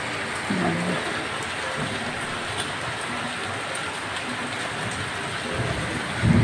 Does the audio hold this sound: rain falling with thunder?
yes